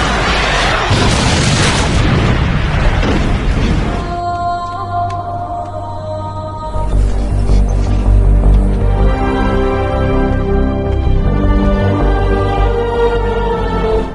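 A loud explosion from the film Priest opens with a dense roaring blast, then a sustained low rumble under dramatic orchestral music and a second swell of fiery roaring.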